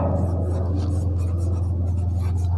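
Chalk or marker scratches across a board during a maths lesson, a brief close scraping stroke over a steady low electrical hum.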